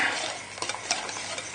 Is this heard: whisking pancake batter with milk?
yes